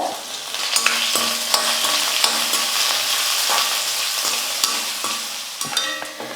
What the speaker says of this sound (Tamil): ஒரு சின்ன வெங்காயம் எடுத்து பொடியாக கட் பண்ணிக்கிட்டு அந்த வெங்காயம் சேர்த்துக்கிறேன்